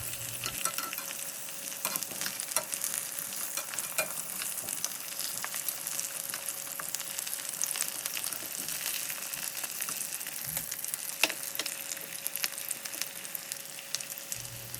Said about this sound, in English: we're going to go back to our potatoes and flip them over in the butter